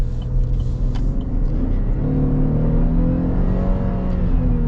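A 2024 Chevy Traverse Limited SUV with a naturally aspirated engine accelerating, heard from inside the cabin as a steady, loud engine drone whose pitch rises gradually over road rumble, with no talking.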